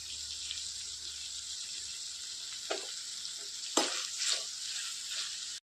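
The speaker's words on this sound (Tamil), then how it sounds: "இப்போ இதை நல்லா வதங்கட்டும்" Coriander and mint sauté in a pan with a steady, quiet hiss and a few stirring clatters near the end. No one speaks.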